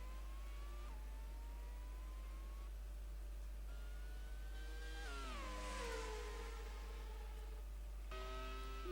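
Formula One cars racing side by side at Montreal, engines droning and shifting pitch together as they pass, with a rising whoosh near the middle and steady high whine throughout, fairly faint.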